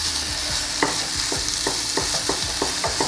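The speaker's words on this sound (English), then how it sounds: "Go ahead and chuck that in our preheated pan." Marinated jackfruit being stirred and frying in a preheated pan, with a steady background sizzle broken by repeated scraping stirs of a utensil against the pan, close and fairly loud, no talking.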